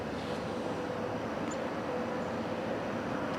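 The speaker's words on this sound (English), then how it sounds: "I think it's the M302 eastbound train" A CN M302 eastbound freight train approaching in Kimball Township, Michigan, heard as a steady broad rumble and roar that fills the whole stretch without pause, with no one speaking.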